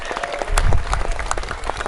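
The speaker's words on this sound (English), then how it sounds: "Give them a big cheer." An audience at a magic show claps and cheers, loud, dense applause with individual claps standing out, close and lively throughout.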